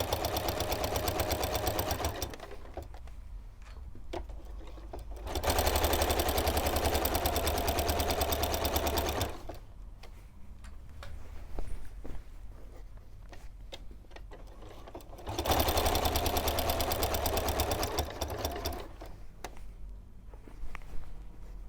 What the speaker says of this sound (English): Now we'll just pop that on the machine and we will finish getting this binding on.